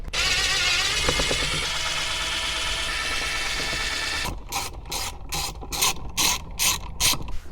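Ratchet wrench working screws and 10mm bolts out of the radio mount in a Lexus SC300/SC400, a steady whirring drive followed by a series of distinct, loud rhythmic clicking pulls up close.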